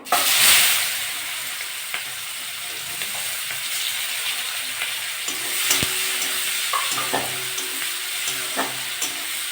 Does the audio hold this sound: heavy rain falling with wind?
no